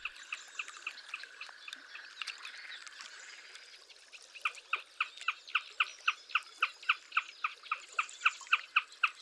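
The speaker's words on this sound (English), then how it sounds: "the wetlands are crowded with a multitude of other winter birds" Winter birds call across a marsh wetland: scattered chirps at first, then a long run of evenly spaced, repeated calls that grows louder toward the end, with no voices.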